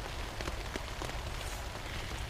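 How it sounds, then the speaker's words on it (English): Rain drums steadily on a taut poncho tent overhead during a storm, a dense close patter with occasional heavier drops. "We've actually got rain."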